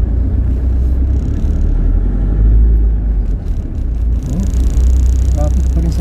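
Road traffic in rainy morning conditions, heard from inside a car: a steady low engine and road rumble fills the cabin throughout, with brief faint higher whines and a voice talking over it.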